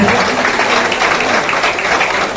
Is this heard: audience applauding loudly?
yes